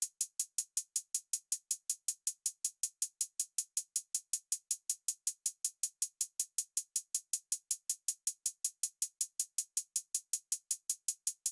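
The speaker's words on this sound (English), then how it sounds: "I played this very simple, basic close hat pattern that went really well with the rest of the beat" Trap closed hi-hat pattern from a trap remake, a crisp, bright, evenly spaced run of rapid ticks repeating steadily with no other instruments, played alone.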